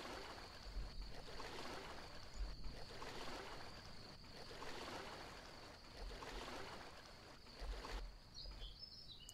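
Oars rowing a boat along a river in a scary video game, with rhythmic watery strokes roughly every one and a half seconds over steady flowing water and a faint high ambient tone.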